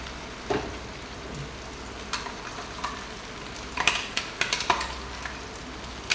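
Onions fry in a pan with a constant low sizzle as spices go in, broken by scattered clinks and scraping stirs that cluster into quick knocks toward the end.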